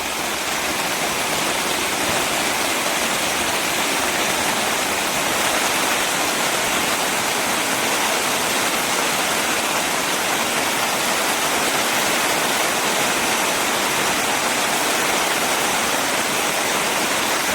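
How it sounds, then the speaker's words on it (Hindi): Water gushes out in a steady, loud roar during heavy rain in the hills of the Jim Corbett area, a continuous broadband rush with no break and no voices over it. "अब निकल रहा है पानी"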